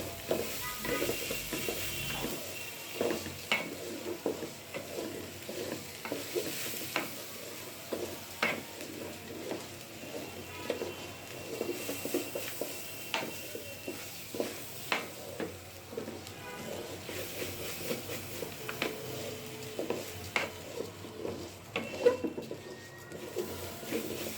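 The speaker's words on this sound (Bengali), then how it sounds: "তারপর আমি চাউলগুলো আবার দিয়ে তেলের মধ্যে কিছুক্ষণ ভেজে নিলাম।" Rice fried in oil with bay leaves, cloves, cardamom and cinnamon for chicken biryani, with steady sizzling under repeated sharp stirring and scraping clicks throughout, close by and with no talk.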